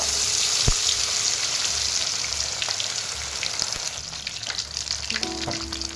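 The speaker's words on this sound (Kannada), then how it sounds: "ಇವಾಗ ಎಣ್ಣೆ ಬಿಸಿಯಾಗಿದೆ ಅದಕ್ಕೆ ಮೀನು ಹಾಕ್ತೀನಿ" Fish pieces for fish kebab sizzle in hot oil with a dense, continuous frying hiss, punctuated by a few sharp crackles and pops from close by, with no speech.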